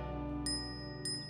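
A small bell carried by a toy train rings twice in bright, quick tings over a sustained musical background.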